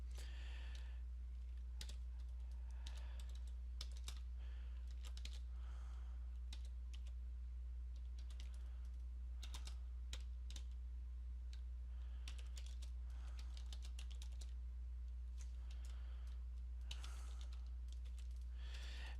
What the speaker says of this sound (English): you can type anything you want in here